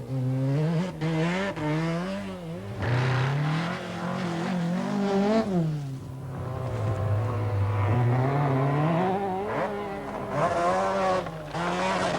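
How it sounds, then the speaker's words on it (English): Mazda RX-7 rally car on a stage of the 1985 Lombard RAC Rally, its rotary engine wailing loudly and continuously as revs rise and fall through gear changes, close by and dominant throughout. "Number 9, Ingvar Carlsen in the Mazda RX-7."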